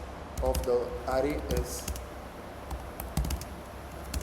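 Fast clicky keystrokes on a computer keyboard while code is typed, fairly close, in quick irregular bursts beneath a man's speech.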